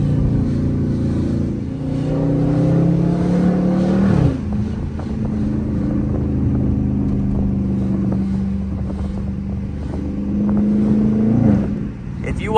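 A loud Dodge Charger RT engine pulling hard in first gear on a late-night drive, its deep drone rising steadily in pitch, dropping sharply at a shift, then climbing again in a second long pull from inside the car.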